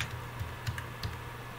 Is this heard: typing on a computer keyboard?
yes